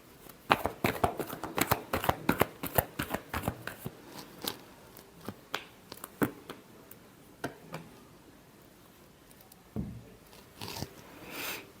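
Tarot cards being shuffled by hand, a close, quiet flurry of rapid papery riffles and flicks that comes in bursts and thins out into occasional taps toward the end.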